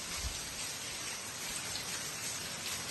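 Heavy rain pours steadily onto a surface in Palotina, Paraná, a dense, unbroken wash of drops that stays loud and close throughout, with no voices over it.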